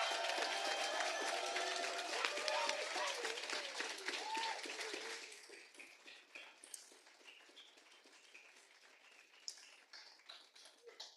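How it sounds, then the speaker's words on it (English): An audience at an anti-war divestment talk claps loudly and densely for about five seconds, then the applause thins out into scattered claps and faint murmuring. "can we give it a big applause for all the people who are involved in these campaigns"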